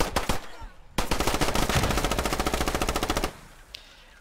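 Automatic weapon fire in the Squad video game rattles off in one long, loud, rapid burst of close shots lasting a couple of seconds, followed by quiet and a lone faint crack.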